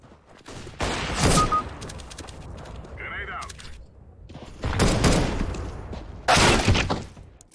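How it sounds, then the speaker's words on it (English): Gunfire and a flashbang in CS:GO on Dust 2: loud bursts of shots come in several separate volleys, with quieter game noise between them. "One headshot and throwing flashbang."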